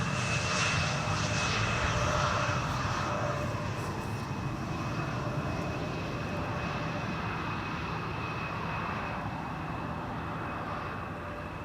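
A Boeing 777 arriving from Johannesburg lands on runway 18R at Schiphol. Its jet engines give a loud, continuous roar that eases off slightly toward the end.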